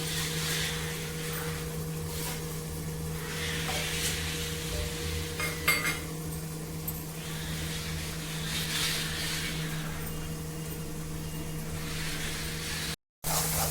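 Spice masala for a green pea curry roasting in oil, a steady close sizzle of frying with occasional scrapes and clinks of a spoon against the pan, alone with no talk.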